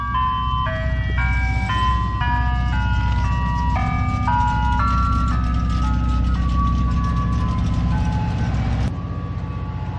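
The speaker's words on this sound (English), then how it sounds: "The ice cream truck." An ice cream truck's tinkling jingle plays a stepped melody over a low idling engine, then cuts off near the end.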